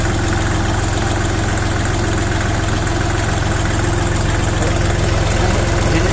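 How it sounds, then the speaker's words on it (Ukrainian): A KENTAVR 24 hp mini tractor engine idles steadily close by, a loud, even low diesel chug with a fast regular knock and mechanical rattle, unchanged throughout. "Спокійно собі двигун працює."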